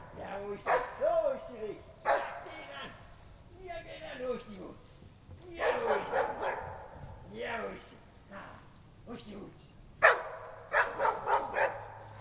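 A scent-tracking hound barks and yelps in quick, uneven bursts, close by during a tracking test, with whining, whimpering cries between the louder barks.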